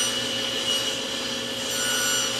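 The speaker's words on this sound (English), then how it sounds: "I plan on nibbling away that recess by using my table saw with my table saw sled." A table saw with a crosscut sled nibbling a recess into a wooden workpiece, giving a loud, steady whine with grinding cutting noise and no voices.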